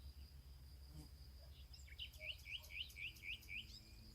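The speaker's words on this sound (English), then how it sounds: "Birds starting to come back as they lay nest and visit," Birds among growing vegetation chirp in a quick repeated series of bright, rising notes, with insects buzzing faintly and a low background hum underneath.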